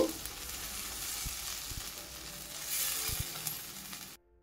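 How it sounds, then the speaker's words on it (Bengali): Spices and chicken sizzle in a pan while being stirred for alu chicken, a steady dense frying hiss with occasional utensil knocks, rising slightly before cutting off abruptly. "তো সমস্ত মশলাগুলোকে আমি ভালো করে একবার নাড়ি চাড়িয়ে নেব।"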